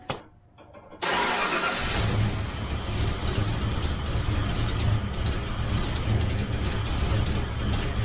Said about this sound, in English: I just want to start the car up, let it run for a minute.